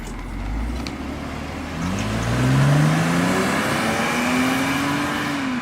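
A BMW E39 528i engine pulls away on a test drive, a sustained rising drone climbing through the gears and growing louder, heard from inside the car with no talking.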